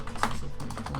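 Rapid clicking keystrokes on a computer keyboard as a command is typed during an Ubuntu Server setup, close and fairly loud, with no speech.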